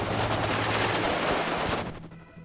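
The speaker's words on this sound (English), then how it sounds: "These tanks are just opening up here, trying to kill some of the reservists" Tanks and infantry open fire in the WARNO real-time strategy game, a dense, loud burst of overlapping gunfire and rattling shots that fades out at the end.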